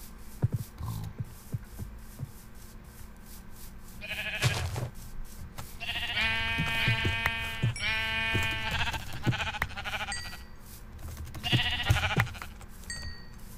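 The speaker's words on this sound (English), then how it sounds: "Sheep." Sheep in Minecraft bleat several times in a row, fairly close, over a low ambient hum with faint footstep-like thumps between calls.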